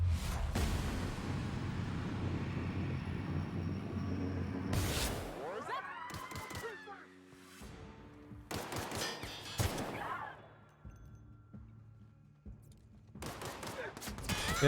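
Enemies fire guns at the player in the video game The Outer Worlds. Rapid bursts of gunfire come in loud volleys separated by quieter gaps, with someone talking between and over the shots.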